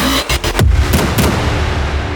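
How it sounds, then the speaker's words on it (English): Loud, sharp gunshot-like booms used as diegetic film sound effects fire in a quick series of four or five blasts, each followed by a deep, rumbling decay. "Finally, we added in Foley and diegetic sound effects."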